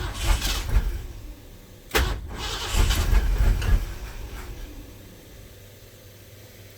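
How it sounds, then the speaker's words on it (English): A starter motor cranks a turbo 351 engine in short, harsh bursts. A brief grind comes first, then a sharp hit and a longer rough crank before it dies away, close and loud. "Angry starter."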